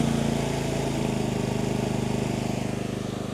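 An Efurden 4400 W inverter generator with eco throttle engaged runs nearby in a steady, even mechanical hum with a fine rapid pulse, slightly settling in loudness over a few seconds, with no voices.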